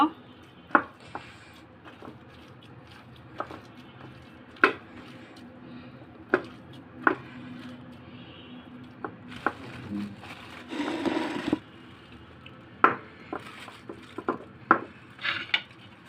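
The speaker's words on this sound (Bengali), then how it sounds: "মরিচের গুঁড়া, এগুলো মিক্স করব একটু একটু দিয়ে দিয়ে। আমি ভালো করে মিক্স করে নিব।" A spice mix of turmeric, cumin, salt and chili powder being mixed by hand in a bowl, heard up close as irregular sharp taps and knocks with brief bursts of scraping and rustling over a quiet background.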